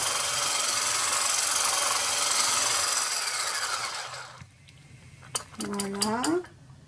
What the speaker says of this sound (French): on prend la crème épaisse qu'on va monter en chantilly toujours